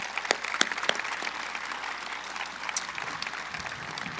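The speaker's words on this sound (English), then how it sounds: "just a round of applause for her service" An audience at a ceremony honoring a military veteran gives a round of applause, steady moderate clapping throughout with a few sharper claps standing out near the start.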